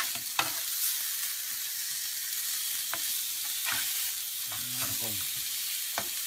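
A tuna patty sizzles steadily in a hot pan after being flipped, a constant bright frying hiss broken by a few soft utensil taps and scrapes.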